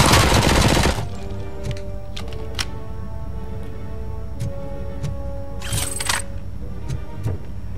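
Machine gun fire in Robocop: Rogue City, a loud, dense burst at the start, then scattered single shots and clicks, with another short burst later, amid game ambience.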